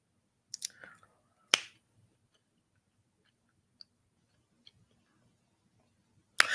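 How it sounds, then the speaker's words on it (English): A comic performer on a late-night sketch show snaps and claps: a few sharp, isolated clicks spaced across a near-silent stretch, with faint room noise and tiny ticks between them. "You gonna get every bit of this clap and the snap."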